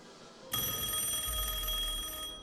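A telephone rings loudly and continuously, starting abruptly about half a second in after a quiet lead-in, with a steady electronic bell tone that holds to the end.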